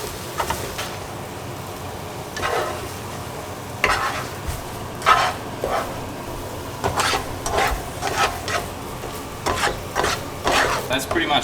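A whole packet of vegetables sizzles in a pan while being stirred, with a steady frying hiss broken by repeated scraping and clattering strokes of the spoon, close and without talk.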